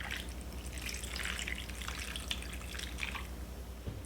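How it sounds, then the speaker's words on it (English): Beef broth is poured into a roasting pan for a standing rib roast, a soft, steady liquid splash with light dripping that stays quiet and continuous throughout. "To this, we're going to add 1 cup of beef broth"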